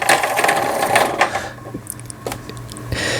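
An older Toyota 152 sewing machine winds a bobbin. A steady mechanical whir runs for about a second and a half, then winds down into scattered clicks and light rattles before the hum picks up again.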